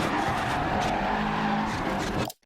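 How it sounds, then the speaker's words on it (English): A rally car brakes and slides on the handbrake on the Monte Carlo stage in the Dirt Rally 2.0 video game, with a loud close skid and engine roar that cut off abruptly at the end. "And then use the handbrake slightly."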